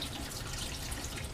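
Tap water runs steadily while lab glassware is rinsed during a neutralization procedure, a short continuous hiss and splash of flowing water at moderate level.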